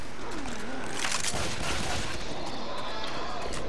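Dense video game gunfire rattles continuously in a chaotic firefight, loud and close, with the sound of other action mixed in.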